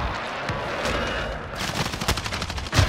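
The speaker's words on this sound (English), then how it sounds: "They're doing an airstrike thing." An airstrike in the video game Call of Duty Warzone: rapid bursts of loud, crackling explosive blasts and gunfire-like pops pile up in quick succession, with the barrage growing denser toward the end.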